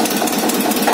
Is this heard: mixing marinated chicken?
no